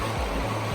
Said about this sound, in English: Creek right there.